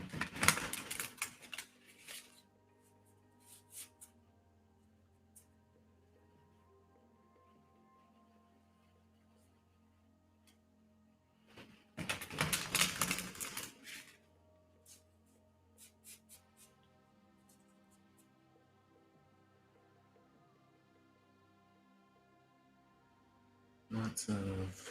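Tarot cards shuffled in brisk bursts, a dense riffling clatter at the start, a longer flurry midway and a short burst at the end, with quiet handling between.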